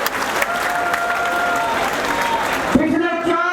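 A political rally crowd bursts into loud, dense applause in thanks to a judge, sustained clapping filling the space before a voice cuts in near the end.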